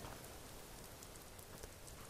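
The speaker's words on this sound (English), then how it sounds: "I know I love the rainy weather out here as well." Steady rain falls outdoors in the countryside outside Riften in the video game Skyrim, a constant even hiss of drops on the ground with no other sounds over it.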